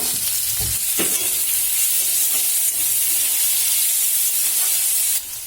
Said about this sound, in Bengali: পেঁয়াজটা সামান্য পরিমাণ ভাজা হয়ে গেলে আমি এতে কেটে রাখা টমেটো কুচিগুলোকে দিয়ে ভালো করে